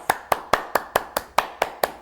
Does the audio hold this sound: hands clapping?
yes